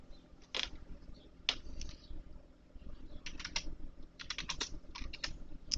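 Short bursts of computer keyboard typing, close and fairly quiet, with clusters of keystrokes separated by brief pauses and no talking.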